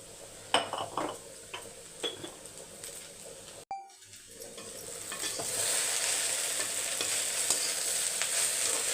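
Okra sautéed in a pan for a home lunch, with scattered clinks of a spoon and stirring, then a steady close sizzle that builds and holds loud after ingredients are added, and nobody speaking.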